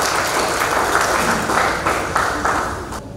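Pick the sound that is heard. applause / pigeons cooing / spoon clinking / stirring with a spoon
applause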